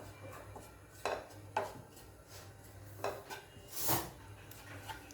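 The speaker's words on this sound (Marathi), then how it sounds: "हे खोबरं आता भाजून घ्यायचं आहे" Quiet, irregular scraping and clinking of a spatula stirring ground dried coconut in a pan as it roasts, with a few louder scrapes and no talking.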